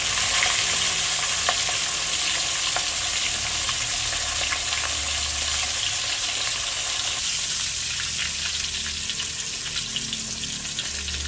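Fish frying in oil in a pan, a steady close hiss of sizzling with faint crackles and small pops, continuing evenly with no voices.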